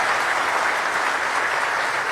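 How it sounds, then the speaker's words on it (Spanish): An audience at a business congress applauds, a dense, continuous wash of many hands clapping at once, steady and fairly loud, with no voices on top. "Un aplauso para todos."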